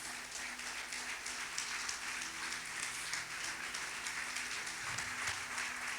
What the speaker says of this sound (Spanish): Dale un fuerte aplauso a ese Dios precioso